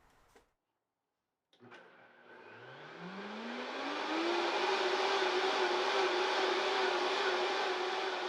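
A Vitamix blender running at its highest speed with hot water and a couple drops of dish soap, starting after a short pause with a rising motor whine that settles into a loud, steady high-pitched roar with churning liquid.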